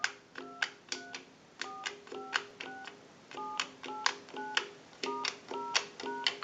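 A repaired single-slot payphone redials a number: short touch-tone beeps fire off in quick groups, each with a crisp click, in a fast, even run of tones.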